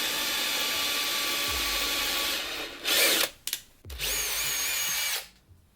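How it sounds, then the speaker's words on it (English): A power drill bores into the horn of a Tusken Raider mask, whining steadily for several seconds, cutting out briefly, then running again before stopping. "you want to hold the horn in place while you drill it"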